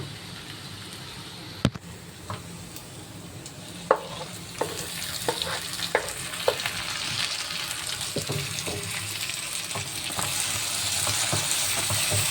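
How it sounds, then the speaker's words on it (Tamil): Tomato and onion sautéed in oil in a pan for masala egg: a steady, close sizzle with scraping stirs and scattered clacks of a spoon against the pan. "நல்லா தக்காளி வெங்காயம் நல்லா வணங்கணும். எண்ணெய் பிரிஞ்சு வர அளவுக்கு வணங்கணும்."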